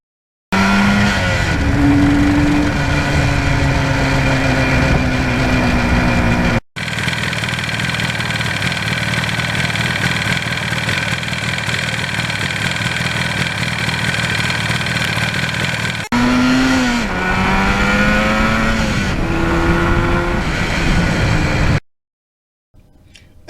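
A 1977 Yamaha RD400 two-stroke motorcycle engine runs loud and close, rising and falling through several revs with a steady drone between, then cuts off near the end; no talking.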